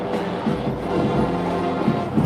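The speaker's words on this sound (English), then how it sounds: "That noise you hear is the interstate right next to the field here." Low, continuous rumble of heavy interstate highway traffic droning beside a football field, a steady wash of road noise with no voices.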